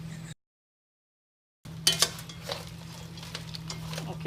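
A pot of crab curry, just salted, is stirred with a spoon after a brief silent break, giving close scraping and clinking strokes over a steady low hum.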